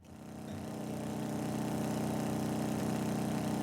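Motorcycle-with-sidecar engine in the video game Trails of Cold Steel, a steady droning engine that swells up from quiet within the first second and then holds a constant buzzing hum, with no talking.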